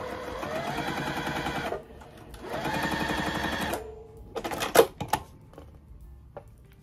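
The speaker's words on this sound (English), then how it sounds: "Now I'm gonna flip it over and stitch on the other side of that line that we marked." A sewing machine stitches a quilted mug rug in two rapid, rattling runs separated by a short pause, then a few sharp clicks and handling knocks follow at close range.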